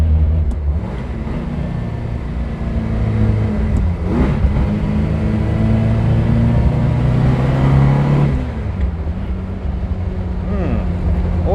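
A car engine with suspected fuel starvation runs at a steady drone, its pitch sagging and recovering around the middle as revs waver, heard from close by without talk.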